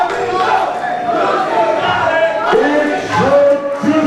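A women's wrestling arena crowd cheers and roars for Melina before a championship main event, loud sustained yelling and whooping from many voices filling the space.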